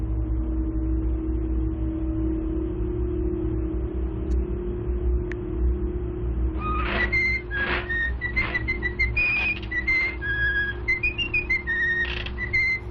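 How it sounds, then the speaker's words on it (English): The tune whistled in the 1928 Steamboat Willie cartoon, a series of bright sliding whistled notes that starts about halfway through over a steady low hum, fairly clear and in the foreground. "Play this 1928 clip of Steamboat Willie. Do the same whistle."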